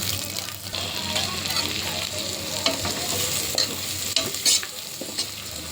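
Small shallots sizzle and are stirred in a hot pan for a pressure-cooker chicken dish, giving a steady close frying hiss with scraping spatula strokes and occasional sharper clicks.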